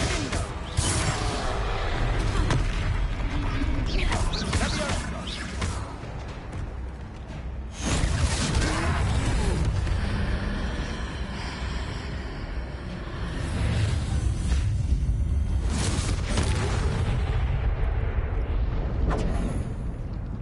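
Confringo fire-spell blasts and explosions in the Hogwarts Legacy video game during a troll fight, a loud, dense run of booming bursts and whooshes lasting about twenty seconds with no pauses.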